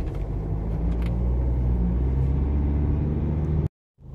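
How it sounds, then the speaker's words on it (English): An automatic car pulls away from a stop as the driver eases off the brake and gives gas, with a steady mid engine hum that cuts off abruptly near the end and then briefly resumes. "I just leave the brake and give some gas"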